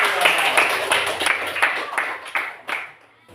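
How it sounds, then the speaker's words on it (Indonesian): Children in a classroom clap together during a lesson: a burst of rhythmic group clapping, loud and fairly close, settling into regular beats before fading out near the end. "tepuk tangan buat semua"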